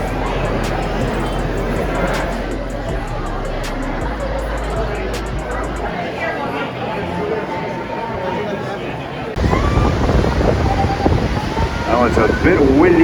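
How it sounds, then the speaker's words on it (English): Wind buffets a microphone on an upstairs outdoor patio at Cedar Point amusement park on opening day, steady and rushing. Background crowd chatter runs underneath, and the gusts grow louder near the end. "Well, it's a bit windy and chilly out here now"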